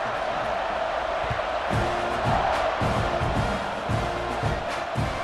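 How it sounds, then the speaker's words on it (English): Stadium crowd roaring steadily in the NCAA 26 football video game during an LSU versus Texas A&M kickoff, a dense, loud continuous wash of cheering with rhythmic swells and no talk over it. "this crowd now ready to get behind them"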